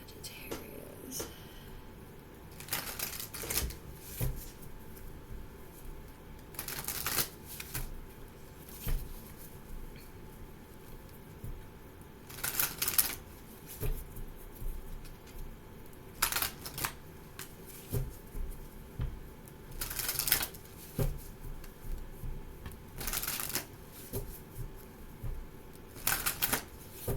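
Tarot cards being shuffled by hand, a series of crisp riffling bursts repeating every few seconds over quiet room tone, close and moderately loud.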